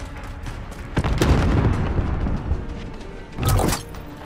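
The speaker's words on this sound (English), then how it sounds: "Grenade out!" A grenade blast in Modern Warfare 2019 team deathmatch: two heavy, rumbling booms about two seconds apart, the first longer with a rolling tail, both close and loud with no talk over them.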